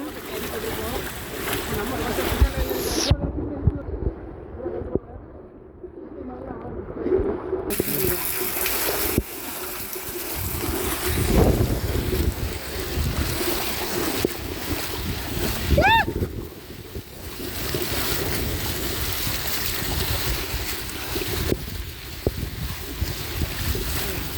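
Floodwater sloshing and gushing around people wading waist-deep through a flooded village in Moolaikaraipatti, Tirunelveli, with steady broadband water noise throughout and voices talking over it.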